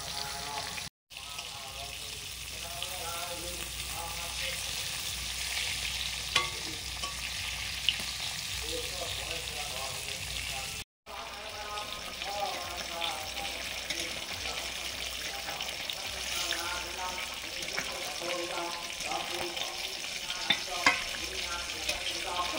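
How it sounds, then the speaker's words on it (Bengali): Eggplant slices fry in a pan with a little oil, giving a soft, continuous sizzle with bubbling patter throughout, fairly quiet and close. "বেগুন ভাজা করছি।"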